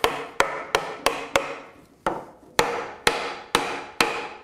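A mallet taps wooden lamellas into slots in oak furniture, a dozen sharp, close wooden knocks in a steady rhythm with one short pause partway through.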